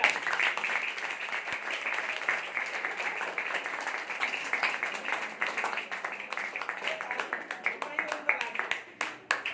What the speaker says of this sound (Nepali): ताली बजाउनुहोस् एकचोटि तपाईँ आफै